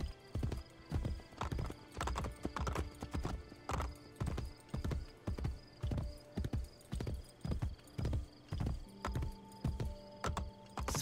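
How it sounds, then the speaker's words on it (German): Horse hooves clip-clopping in a steady galloping rhythm while riding in the video game Assassin's Creed Brotherhood, loud and continuous with a brief whinny-like tone, no talking. "Ja, wir reiten jetzt an den Borgia-Türmen vorbei."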